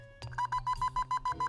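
A rapid series of about nine short, even electronic beeps pulses from a metal detector at a security desk in the adventure game Grim Fandango, steady and fairly close over a low background hum.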